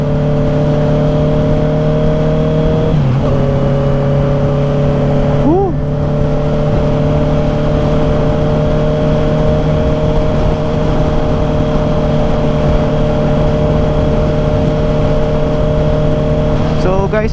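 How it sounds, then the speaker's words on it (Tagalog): Steady roaring wind noise rushes past a rider on a Honda CB650R motorcycle at highway speed, loud and constant, with the engine's droning hum underneath and small shifts in engine pitch partway through. "Ang maingay yung wind noise eh."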